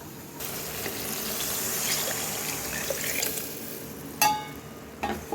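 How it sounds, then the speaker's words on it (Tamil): Water poured from a container into a cooking pot of Tamil drumstick (murungakkai) kuzhambu with ground coconut, a steady splashing stream close by, ending with a couple of sharp clinks. "உங்கள் தேவையான அளவுக்கு நீங்கள் வந்து தண்ணி ஊற்றிங்க."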